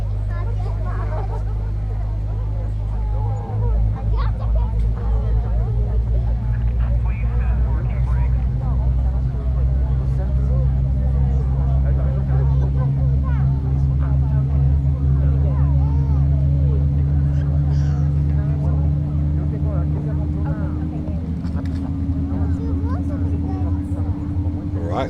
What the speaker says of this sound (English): Looks like we got a good start on engine number 1.